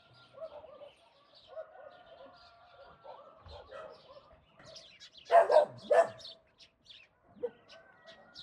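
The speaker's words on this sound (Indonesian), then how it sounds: "Sudah terdengar ya suara-suara burung." Birds call in short, scattered chirps and squawks around a quiet snowy village in Moldova, mostly faint and distant with a couple of louder, closer cries, and no one speaking.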